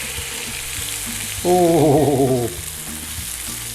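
Pork chops sear in a frying pan with a steady crackling sizzle close by, and a person briefly speaks over it in the middle.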